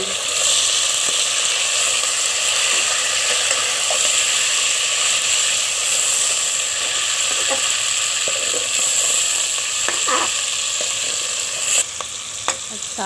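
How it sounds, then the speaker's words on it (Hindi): Mutton fries in a pan with browned onions for arvi gosht, giving a loud, steady sizzle with occasional scraping stir strokes near the end. No one talks. "अब हम इसमें गोश्त डालेंगे, गोश्त को सही"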